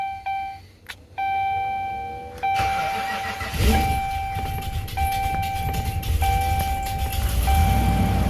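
A Ram 1500 with the 5.7 Hemi engine cranks hard in the cold, its starter grinding and sputtering after a few electronic chimes. A door chime keeps ringing at a steady pace as the engine catches and runs roughly.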